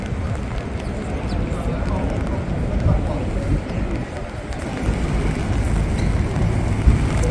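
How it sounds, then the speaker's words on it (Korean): A Lisbon number 28 tram rumbles in with a steady low roar and faint rattling, amid constant street noise and people talking nearby. "28번 트램 들어옵니다"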